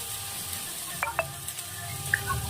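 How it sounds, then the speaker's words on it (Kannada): Onions frying in a pan with a spoon of salt for chicken liver pepper fry make a faint, soft sizzle, broken by a few light clicks of a stirring spoon. "ಬ್ರೌನ್ ಹಾಕೋವರೆಗೂ ಈರುಳ್ಳಿ ಎಲ್ಲ ಚೆನ್ನಾಗಿ ಫ್ರೈ ಮಾಡ್ಕೋಬೇಕು."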